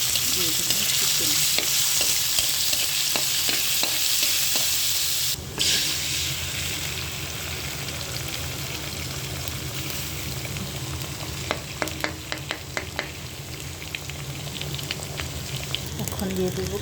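Chicken frying in a hot pan, a steady loud sizzle with scraping stirs throughout, a brief louder burst partway through and a few clinks of the utensil near the end.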